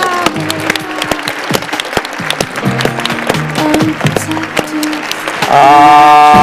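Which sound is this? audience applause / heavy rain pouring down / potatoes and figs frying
audience applause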